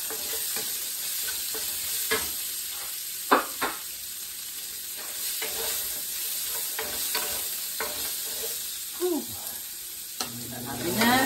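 Onion frying in a pan for a goat and pineapple stew, with a steady close sizzle and occasional stirring scrapes and clinks.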